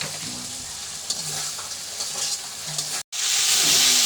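Potatoes fry in a pan with salt, turmeric, chili powder and green chilies, giving a steady close sizzle with scraping stirs; a brief cut near the end gives way to a louder, brighter hiss.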